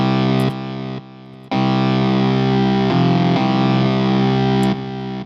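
Lead preset from the Hardcore distortion plugin in FL Studio: a loud, sustained buzzing synth-like lead with heavy distortion and effects, playing a few held notes with brief drops in level, no voices.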